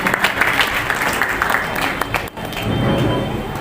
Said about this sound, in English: keep clapping for these young students